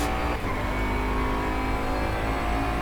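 A Bentley Continental GT3 race car's engine in the rFactor 2 sim: a steady, loud, sustained drone at a held pitch, with no one talking over it.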